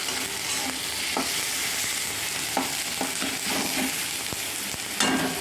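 Ingredients for an egg do-pyaza sizzle in a pan, a continuous close frying hiss broken by scraping and tapping stirring strokes, with no talking.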